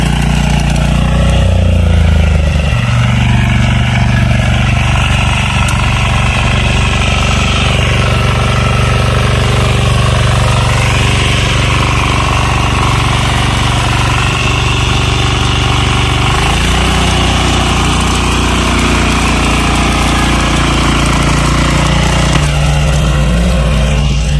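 A farm machine used in a ginger field runs with a loud, steady, rattling engine drone that shifts pitch as the machine is turned over, close by and continuous throughout, with no talk.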